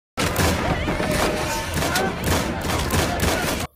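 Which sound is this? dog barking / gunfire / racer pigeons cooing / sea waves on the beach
gunfire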